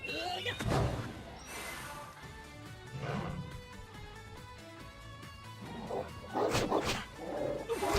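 Magical dogs in the Pirate101 video game bark in a few loud, separate bursts mixed with game music and combat effects, with a person talking over them at times.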